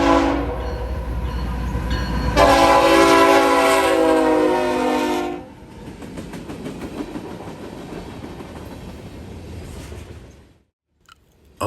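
A freight train led by a Kansas City Southern locomotive rolls past on a slight grade, with a loud horn blast early, then wheels clattering and rumbling by before fading to near silence.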